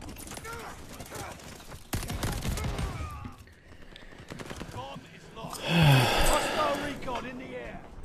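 Enemy gunfire in a shooter video game crackles in rapid bursts and scattered shots, mixed with impacts and a louder blast near the end, while someone talks over the action.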